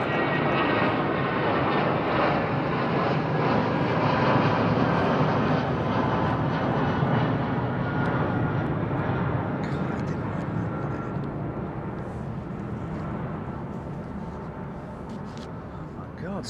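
A jet departing London Heathrow Airport roars overhead, a loud, broad engine rumble sustained throughout and slowly easing as it climbs away.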